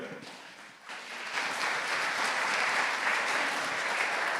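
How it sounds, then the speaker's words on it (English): Applause from an audience greeting a speaker at a museum-of-the-future talk, starting quiet and swelling after about a second into steady, dense clapping that holds at full level to the end. "So give a warm applause for the actual next speaker, Frederik de Bosschere."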